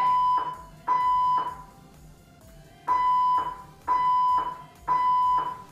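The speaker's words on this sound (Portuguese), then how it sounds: "Isso é o teste de alarme de incêndio, gente." A loud fire alarm test sounds in repeated long tonal blasts, pausing once, then resuming in an evenly spaced series.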